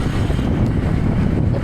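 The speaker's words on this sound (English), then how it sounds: "It's so windy right now" Strong wind buffets the microphone during a motorcycle ride with the visor up, a steady, loud, low rumbling roar with no talking.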